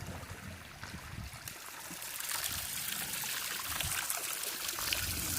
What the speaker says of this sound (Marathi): हा इकडे पाणी पडतो आपल्या वॉटरफॉलचा पाहू शकता